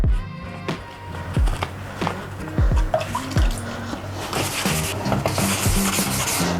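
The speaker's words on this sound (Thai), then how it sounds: "ขัดละเอียดนี่เราก็จะขัดมันทั้งอันไปเลยนะครับ" Lacquer is fine-sanded by hand with wet 2000-grit sandpaper, giving repeated soft rubbing strokes with damp scrubbing texture, close and fairly quiet, continuing in an uneven rhythm.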